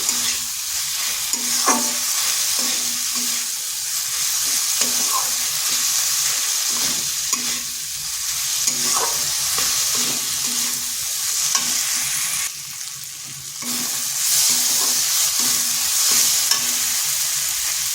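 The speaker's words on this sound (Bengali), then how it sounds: "এরপর দিয়ে দিচ্ছি মুসুর ডাল" Masoor lentils fry in a pan, giving a continuous close sizzle broken by repeated scraping stirs at an uneven rhythm, with no talking.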